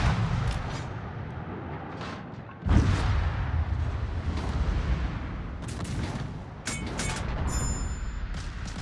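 Naval gunfire on an enemy warship in a sea battle game booms out in heavy, spaced reports, loud at first and again later, over a continuous rumbling battle backdrop with no voices.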